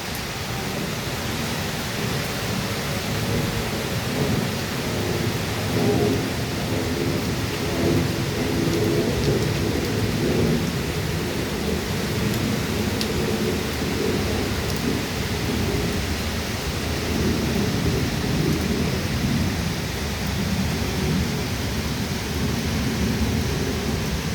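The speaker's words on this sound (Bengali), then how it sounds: "শ্রাবণের বর্ষণ চলছে, টানা বৃষ্টি চলছে।" Heavy monsoon rain falls steadily over Dhaka in July, with thunder rumbling low beneath it. A dense, unbroken roar of rain continues throughout, with no voices.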